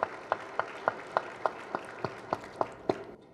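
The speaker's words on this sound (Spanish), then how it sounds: "Un aplauso para ustedes" At the opening of a clothing and textile fair, faint rhythmic clapping sounds as roughly eleven evenly spaced claps, sharp and regular, stopping just before the end.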